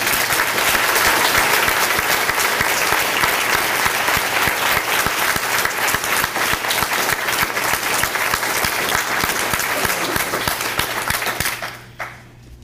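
Banquet guests at a school PTO scholarship event give a long, loud round of applause for honored educators, dense clapping that carries on steadily before cutting off near the end.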